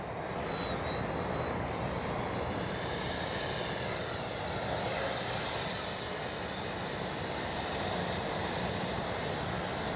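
An E-flite 64mm Viper RC jet flies overhead in a morning run, its ducted-fan engine whining in a sustained high pitch that shifts upward as it passes, steady and fairly loud over a broad roar.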